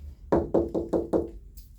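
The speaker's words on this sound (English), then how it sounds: "I'm going to knock on the door." Five firm knocks land on a door in a quick, even rhythm, close and distinct, then stop, with no talk over them.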